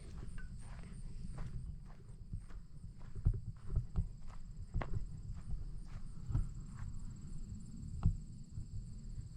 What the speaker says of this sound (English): Gotta get the fat horses out.